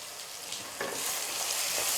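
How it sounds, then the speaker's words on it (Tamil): Vegetables sizzle in a hot pan while being stirred for rava kichadi, with soft scraping sounds over a steady frying hiss, heard quietly and alone. "ஒரு 2 நிமிஷம் காய் சேர்த்து நல்லா வதக்கி விடுங்கம்மா"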